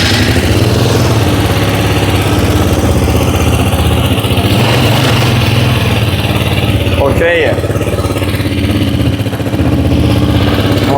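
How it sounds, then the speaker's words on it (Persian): A 300cc motorcycle engine idling loudly and close, a steady rumbling drone with a faint pulse, while someone speaks briefly over it. "موتور کار کنه یه مقدار"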